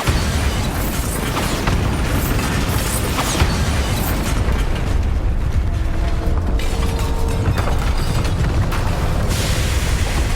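A Bombarda spell blasts in Hogwarts Legacy, loud booming explosions and rumbling debris amid mechanical clatter and creaks, sustained and dense throughout.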